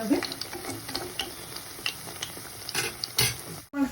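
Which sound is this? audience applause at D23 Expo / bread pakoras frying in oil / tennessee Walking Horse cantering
bread pakoras frying in oil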